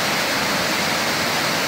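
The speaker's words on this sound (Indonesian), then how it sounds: "tuh di bawah airnya sangat deras tuh, di sekat-sekat airnya" Water at a weir on the Ciwulan River in Tasikmalaya rushes hard and loud, a dense, unbroken roar with no pauses or other sounds.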